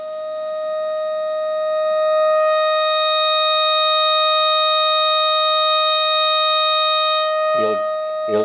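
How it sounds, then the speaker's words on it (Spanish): A steady electronic test tone plays through a valve record player amplifier, a pure sustained pitch with strong harmonics that swells in volume and holds, with a voice speaking briefly near the end. "vamos a darle volumen y se tiene que oír el pitido"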